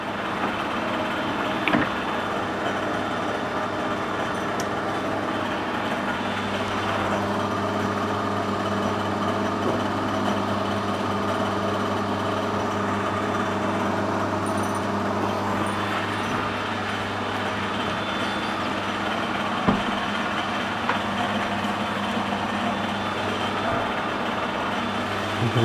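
Machining plastic with a high-speed steel tool, heard as a steady machine hum and whir that grows fuller partway through, with a few sharp ticks of chips, running continuously at close range with no talk.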